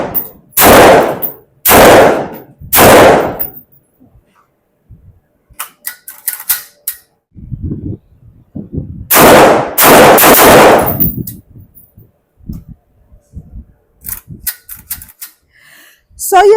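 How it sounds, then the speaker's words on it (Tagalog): An IWI Carmel 16-inch 5.56 rifle fires loud, sharp outdoor shots, first three spaced reports and later a tighter cluster of blasts, with quieter clicks and handling noises between them. "Iti-test fire natin itong IWI Carmel 16 inches rifle."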